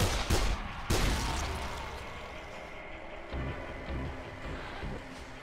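Gunfire in the zombie video game Dead Island: two sharp bursts near the start, then a dense, noisy rumble of continued shooting and action, moderately loud and without speech.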